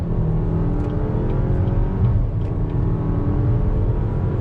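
A 2020 Cadillac XT4 luxury crossover accelerates hard in sport mode, its engine droning and rising steadily from inside the cabin, loud and continuous.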